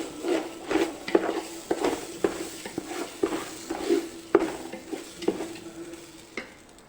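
Rice is sautéed in ghee in a pan for ghee rice. Steady, rhythmic scraping stir strokes roughly every half second sit over a soft sizzle, close and clear, with no voices.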